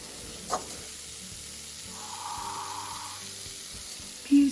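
Roast potatoes sizzle in a hot pan, a faint, steady hiss that swells briefly in the middle, with a light clunk near the start and a sharper knock at the end.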